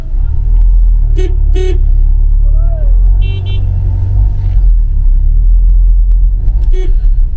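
Heavy road traffic near Srinagar on the Gulmarg route rumbles loud and close, with several short car horn toots cutting through the steady engine noise.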